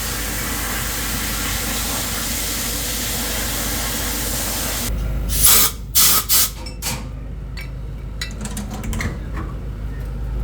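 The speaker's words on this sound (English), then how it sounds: "Into the blast cabinet to remove all the old paint." Blast media hisses in a steady, loud stream inside a blast cabinet, stripping old paint from 1947 Cessna aircraft parts. After about five seconds it breaks into short, sharp bursts with quieter gaps.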